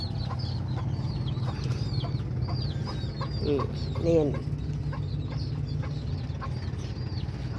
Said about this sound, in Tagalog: Mga alaga kaming manok